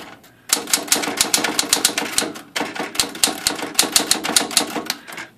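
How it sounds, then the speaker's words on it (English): Someone types fast on a vintage Smith Corona manual typewriter. Sharp key strikes clatter close and loud in irregular bursts, with a brief pause after the first half second. No one speaks. "this is just a Smith Corona manual typewriter that they made millions of during this time period"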